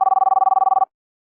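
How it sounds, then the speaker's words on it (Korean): A telephone ringback tone pulses steadily, a rapid series of short even beeps at one pitch lasting under a second, then stops abruptly into silence. "그러자 그 모습을 보고 지훈이 전화를 걸었다"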